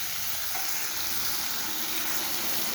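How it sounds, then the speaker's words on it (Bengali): Water added to a sautéed spice paste for a fish-roe fritter and potato curry, giving a loud, steady, dense sizzle that roars on without a break from start to finish. "মশলাটা ভালো মতো কষানো হয়ে গেছে এবার আমি জল দিয়ে দিই"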